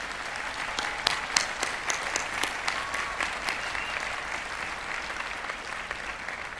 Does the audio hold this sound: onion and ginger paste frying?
no